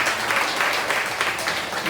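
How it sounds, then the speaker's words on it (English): A comedy show audience claps in a continuous, even wash of applause, moderately loud and unbroken throughout. "Give yourself a round of applause for being here."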